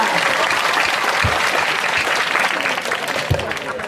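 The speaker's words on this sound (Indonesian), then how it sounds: "Ini sih mah tepuk tangan." Village audience at a Balinese comedy performance in a customary village applauding loudly, a thick continuous wash of clapping from a crowd that holds steady and tapers slightly at the end.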